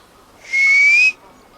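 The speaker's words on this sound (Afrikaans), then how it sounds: "Ek het net nou gefluit." A person whistles one clear, sustained note that rises slightly in pitch and lasts just over half a second, heard alone against a quiet background with no talking.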